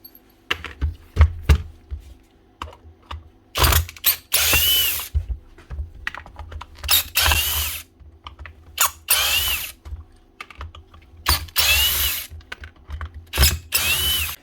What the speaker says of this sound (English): So take out all these screws.